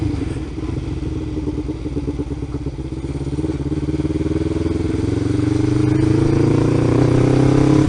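Kawasaki Ninja 500R motorcycle engine running steadily while riding, a loud continuous drone that rises in pitch as the bike accelerates toward the end.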